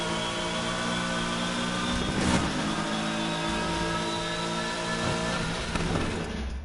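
A car engine revs steadily at high pitch in NFS Heat, a strong, tonal drone that holds its pitch with slight swells and no talking.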